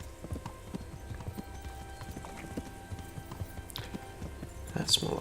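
Horse hooves clip-clopping at a steady walking pace in the medieval game Kingdom Come: Deliverance, with faint background music and a brief louder burst near the end.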